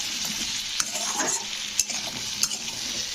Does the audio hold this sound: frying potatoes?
yes